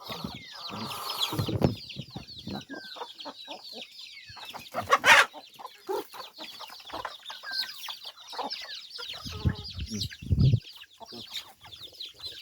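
Chickens cluck and squawk busily through a morning feeding, many birds close by with overlapping calls, scattered louder bursts and occasional knocks and rustles, no voices.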